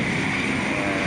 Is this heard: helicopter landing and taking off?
yes